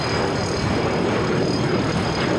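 An airliner takes off at LAX, heard as a steady, broad roar of jet engines at moderate distance, continuous and even throughout with no voices.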